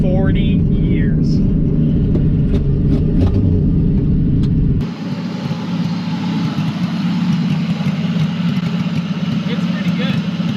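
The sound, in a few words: Pontiac Ventura engine idling and revving without exhaust system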